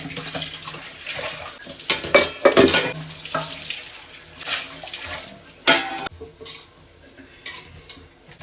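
Dishes, pots and cutlery washed in a kitchen sink at home, with clattering clinks and knocks in irregular bursts over running water, close by and without talking.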